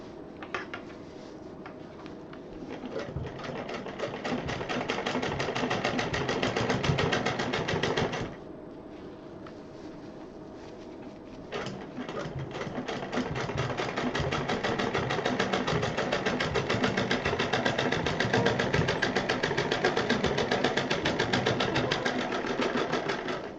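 A sewing machine stitches purse lining in fast, even bursts of close mechanical whirring, pausing briefly near the middle before starting again and running steadily to the end, with no talking.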